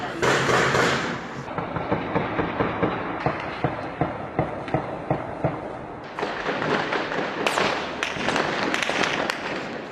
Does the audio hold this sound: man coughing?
no